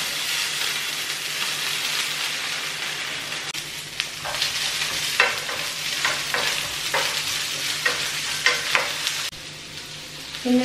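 Chana dal frying in a pan while being stirred for a home-cooked meal, a continuous close sizzle with scraping strokes of a spoon breaking through every second or so.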